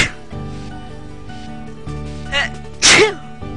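A single sharp human sneeze near the end, preceded by a short inhale and set over soft background music.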